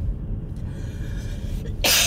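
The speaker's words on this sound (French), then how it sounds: "Ah, je tousse." After a quiet background, a single sharp cough bursts out close by near the end.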